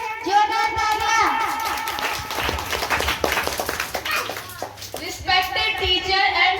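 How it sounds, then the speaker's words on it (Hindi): Students and guests clap steadily for a class 8 schoolgirl at a Republic Day celebration in a kids' coaching centre. Children's voices are heard before and after the burst of applause. "जोरदार तालियां"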